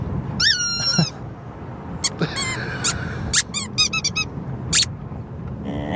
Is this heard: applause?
no